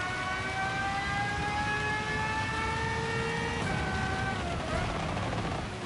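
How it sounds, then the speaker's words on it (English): A racing car engine in Gran Turismo 7 revs steadily with rising pitch through the gears, loud and close, then shifts and drops briefly near the end, with no talking. "alright, I gotta stop trying to overdrive the car here"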